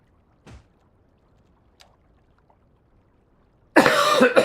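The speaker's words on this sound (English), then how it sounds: "I've still got that irritating cough" An irritating cough from a person getting over an illness, heard as a short faint burst early on, then a louder, harsher cough near the end after near silence.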